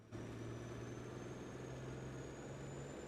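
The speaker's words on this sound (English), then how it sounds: "I'll go ahead and move the truck out of the way." Farm truck engine in a farming video game, a steady low idle-like drone with a constant hum as the truck is driven off, heard alone and fairly close for about three seconds.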